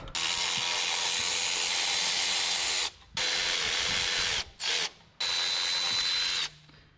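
A belt tensioner is removed from an LS-swapped 1999 Chevrolet S10 using a loud power tool, likely an impact or drill. It whirs in long, close bursts broken by short pauses, with no talking.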